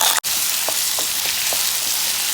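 Sliced onions and potatoes sizzle in hot oil with cumin and mustard seeds, a loud steady frying hiss broken by a brief dropout and a few faint stirring taps, no voices.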